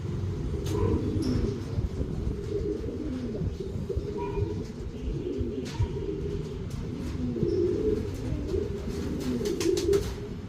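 Koopman young racing pigeons coo softly on a rooftop loft, low murmuring calls running steadily throughout amid faint background rumble and occasional chirps.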